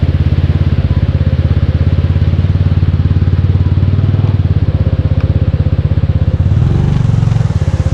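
A motorcycle engine runs steadily up close at Anyap Falls Campsite in Tanay, Rizal, with a rapid, throbbing putter, briefly swelling in pitch as it revs near the end.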